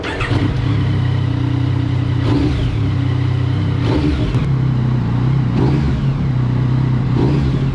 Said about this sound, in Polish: naciskamy go i motocykl sam dodaje sobie gazu